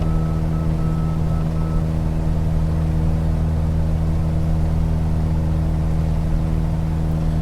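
Rapid pulsed warning beeps sound in a Microsoft Flight Simulator 2020 cockpit for the first couple of seconds, then stop, leaving only the constant engine hum of the light plane droning on alone.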